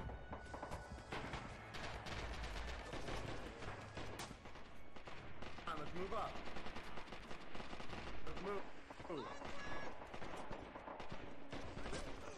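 Blind gunfire in Red Orchestra 2 rattles out as a dense, continuous stream of shots and battle noise, with voices faintly underneath.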